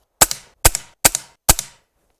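Four sharp shots from a Hatsan/Optima mod 25 SuperCharger air pistol at an even pace, each a crisp pop followed by a quick metallic clack, close by with no talking.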